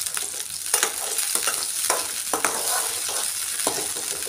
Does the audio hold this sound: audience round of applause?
no